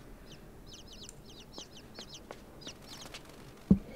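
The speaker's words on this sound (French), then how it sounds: "Ah, c'est les oiseaux." Birds in the video game Inside give rapid repeated chirps in short bursts, fairly close, and a brief thud follows near the end.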